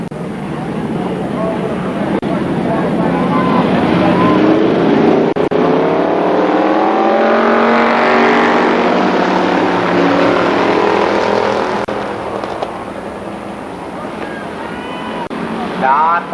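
Super late model race cars roar down the backstretch of Columbus Motor Speedway, engine noise swelling and fading steadily as a track announcer talks over it.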